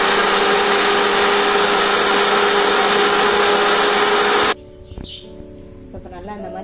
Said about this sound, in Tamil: ஸோ இது எல்லாத்தையும் மிக்சியில் போட்டு நம்ம அரைச்சிக்கலாம்